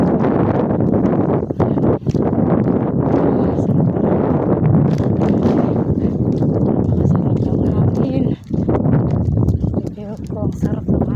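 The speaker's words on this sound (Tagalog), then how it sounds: "Ang sarap ng hangin." Wind blows outdoors in gusty, buffeting rushes against the microphone, loud and continuous with brief dips, while a voice talks over it.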